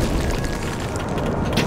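An explosion in the video game Trine 2 booms with a dense, sustained rumble filling the whole stretch, loud and continuous with a brief brighter burst near the end.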